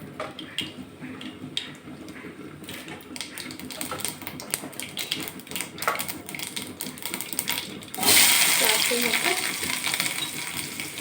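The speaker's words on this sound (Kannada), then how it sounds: "ಒಂದು ಸ್ವಲ್ಪ ಸಾಸಿವೆ ಹಾಕ್ತಿದ್ದೀನಿ" Mustard seeds for a chutney tempering fry in hot oil, first as sparse crackling pops and ticks, then after a few seconds as a loud, steady sizzle close by.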